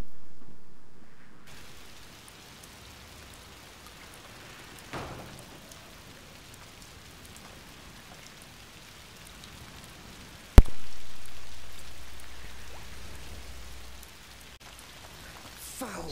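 Steady, fairly quiet rain patters throughout in A Plague Tale: Requiem, with a brief sharp crack midway and a low rumble rising near the end.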